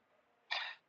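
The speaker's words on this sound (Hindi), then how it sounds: "थोड़ा खांसी आ गई" A single short, quiet cough from a man with a sore throat during a patriotic poetry program, a brief breathy burst against near silence.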